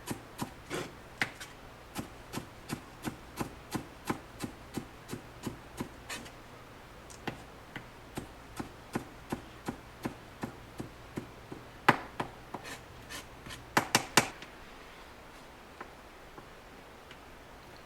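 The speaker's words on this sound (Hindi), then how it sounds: "अब हम धनिया बारीक बारीक काट लेंगे।" A knife finely chopping fresh coriander on a board, steady evenly spaced taps close by, about two per second, pausing briefly then resuming with a quick cluster of chops near the end.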